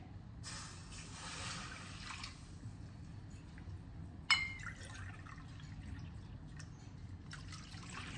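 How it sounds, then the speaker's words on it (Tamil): About two cups of water poured into a kadai on a gas stove while cooking custard halwa, heard as a soft, steady pouring and trickling close by, with a brief clink partway through and no talking. "அதில் வந்து 2 கப்பு தண்ணி வந்து நான் வந்து விடுறேன்."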